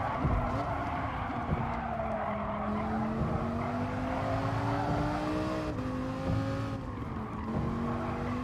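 A race car engine drones and shifts pitch steadily in Gran Turismo Sport while tires squeal through corners, loud and continuous with brief skids.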